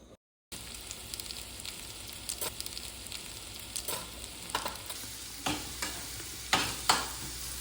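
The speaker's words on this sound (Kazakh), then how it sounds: "осыған алманы турап қуырамыз" Sliced apples frying in butter in a pan, with a steady close sizzle broken by repeated sharp scrapes and knocks of stirring that grow louder toward the end.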